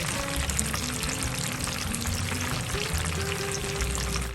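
Shrimp dropped into a pot of simmering Thai curry, a steady bubbling sizzle with soft liquid pouring and stirring noises, even and continuous throughout, no voices.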